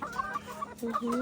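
Hens cluck in a farmyard, a close series of short, throaty clucks and rising calls in quick succession, with no talking.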